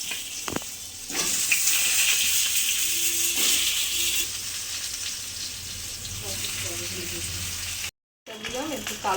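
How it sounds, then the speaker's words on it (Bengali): Potatoes frying in hot oil in a pan for a fish curry, a loud steady sizzle that fills most of the stretch, with a few knocks and stirring sounds and a short cut near the end. "আলুগুলো ভেজে নিচ্ছি।"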